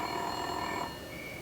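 A telephone-style ring comes from a cup, a short bright electronic trill that stops partway through and leaves a quieter tone behind it.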